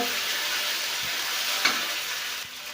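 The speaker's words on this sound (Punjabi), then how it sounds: "ਅਦਰਕ ਲਸਣ ਆਪਣਾ ਭੁੰਨ ਹੋ ਗਿਆ" Ginger-garlic paste fries in a pan with a steady, hissing sizzle, close and continuous, broken by a few soft scrapes and taps of stirring.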